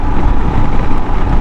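A Royal Enfield Himalayan motorcycle rides at speed, with a loud, close, continuous roar of wind buffeting the helmet microphone over a low engine rumble.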